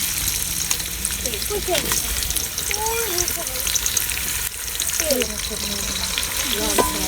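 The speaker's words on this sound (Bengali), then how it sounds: "এখন আমি পরিমাণ মতো পেঁয়াজ দিয়ে দিচ্ছি" Onions fry in hot oil in a pan, a steady, close sizzle with frothy crackling that carries on under a person's speech.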